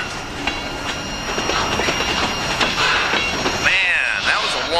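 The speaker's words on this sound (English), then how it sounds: "Long train." A long freight train rolls past steadily with rumbling cars, rhythmic clickety-clack from the wheels and shrill squeals of wheels on rails near the end, loud and close, with a voice briefly heard beneath it.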